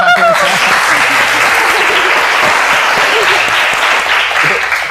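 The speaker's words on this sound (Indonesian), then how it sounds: "Oke, tepuk tangan." A crowd applauding loudly and steadily, dense clapping filling the whole stretch with a few voices mixed in.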